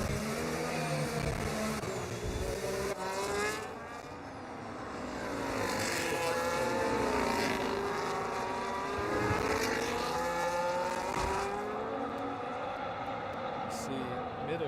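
Race cars roar around the Baku street circuit in a video game racing league, engines rising and falling as they pass, with someone talking over the noise throughout.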